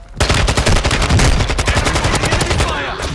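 Rapid automatic gunfire in a military shooter video game, a dense loud burst of closely spaced shots starting abruptly and continuing almost without pause, with a few heavier cracks mixed in.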